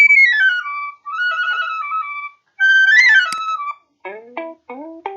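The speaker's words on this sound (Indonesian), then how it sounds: "Suara seruling." A flute plays a few short phrases with sliding, bending pitches, ending in quick clipped notes. It is clear and alone, with brief silences between the phrases.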